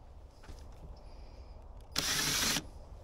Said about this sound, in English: drill through the wood